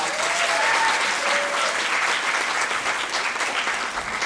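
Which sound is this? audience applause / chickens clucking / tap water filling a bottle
audience applause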